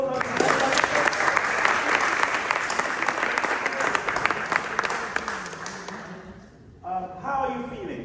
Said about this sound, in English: Can we give those people a round of applause?